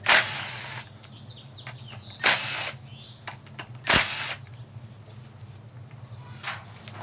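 A power driver removes 8mm screws from the engine cover of a Subaru WRX/STI in three loud bursts of whirring, separated by soft clicks and handling noise from the tool and parts, close up.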